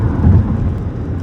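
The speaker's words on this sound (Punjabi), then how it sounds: "ਜਿਹੜੀ ਗੱਲ ਦਾ ਡਰ ਸੀ ਉਹ ਹੀ ਹੋ ਗਿਆ ਮੀਂਹ ਸ਼ੁਰੂ ਹੋ ਗਿਆ" Rain starting to fall outdoors in upstate New York, a steady broadband wash with a deep low rumble at the start, loud and continuous without any talk.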